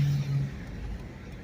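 A 1997 Jeep Grand Cherokee ZJ with a failing front CV joint turns while driving, a low steady engine and road drone heard from inside the cabin, brief and fairly even.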